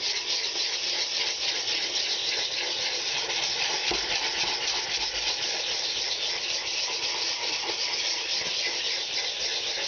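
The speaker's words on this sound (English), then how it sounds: "I'm not pressing down, I'm just letting the sanding block do its thing." Steady dry scraping of a sanding block worked by hand over fiberglass putty on an R/C model, a continuous close rasping hiss with light, even strokes and no talk.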